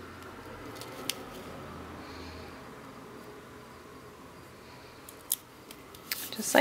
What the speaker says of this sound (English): I've got a little bit of excess here. I can trim that off.